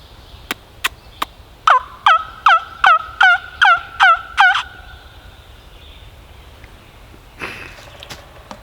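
A wingbone turkey call made from bird bones, played by sucking air through it, gives a few sharp clucks and then a quick run of loud, rising yelps close by that imitate a wild turkey, followed by quiet outdoor stillness.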